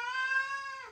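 A rescued pet cat kept indoors as a family member lets out a single drawn-out, clear meow close up, steady in pitch before sliding down at the end, with no talking.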